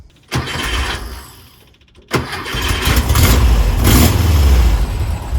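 A Porsche 914 cranks and fires on the second try after a brief first attempt, then settles into a loud, close, slightly uneven idle with a few light revs.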